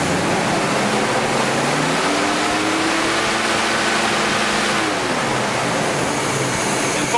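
A car engine with a recurved GM distributor idles at 730 RPM, a loud, constant rushing rumble that holds steady throughout without any voices.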